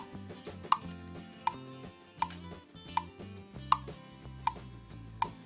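A steady metronome-like drum tempo click from GarageBand on an iPad ticks at an even tempo, one sharp tick roughly every three quarters of a second, over soft low tones.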